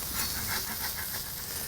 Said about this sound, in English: holes are formed and a lot of steam's coming out